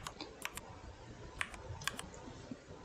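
Sparse keystrokes on a computer keyboard while writing C code, a few sharp isolated clicks spread over a steady low background hum, close but fairly soft, with no talk.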